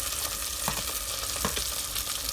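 Curry leaves, green chili, tomato and rampe fry in hot oil for a beef curry, giving a dense, continuous close sizzle with a few soft stirring scrapes breaking through.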